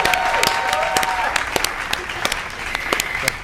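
Applause during a quiz game, scattered sharp claps and a few loud slaps over a background of talk, with an electronic tone at the start.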